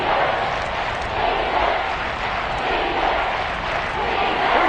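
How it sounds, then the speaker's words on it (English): Football stadium crowd cheering and roaring in a steady, dense wash of noise throughout, building slightly toward the end, with no distinct voices standing out. "Crowd getting in it a bit already."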